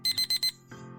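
An alarm clock beeps in four quick loud bursts, pauses, then starts another burst at the end, with a low hum in the gap.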